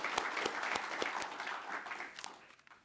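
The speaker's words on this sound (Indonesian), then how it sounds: "Kita berikan aplaus yang meriah untuk kita semua." Crowd applause at a swearing-in ceremony for new advocates of Indonesia's National Lawyers Council in Jakarta: dense, steady clapping from many hands in a hall, with a few sharp claps standing out, slowly fading toward the end.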